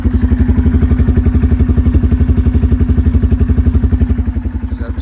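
A 2003 Kodiak 450 ATV idles up close with its factory exhaust baffle removed, a loud, rapid and even thumping putter that stays steady throughout.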